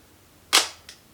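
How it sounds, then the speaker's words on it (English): A Mamiya 645 medium format film camera fires its shutter with the mirror already locked up, giving one sharp, loud click followed by a faint second tick a moment later, alone in a quiet room. "and only the shutter moves"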